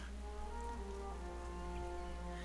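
Steady, even rain hiss pours down in World of Warcraft Dragonflight, a soft continuous wash under a faint sustained musical drone, with no talking.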